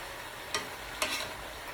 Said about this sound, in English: So this is my good old fried cabbage.